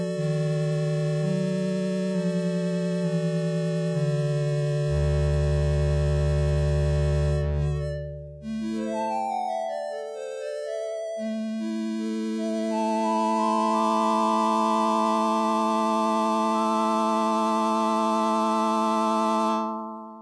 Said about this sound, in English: as you hear, pretty basic sounds, really home keyboardish sounding.